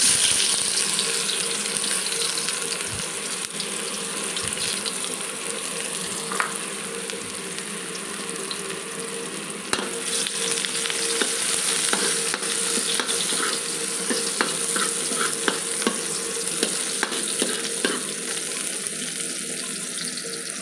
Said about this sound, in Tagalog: pagsasabayin ko ng igisa itong garlic and onion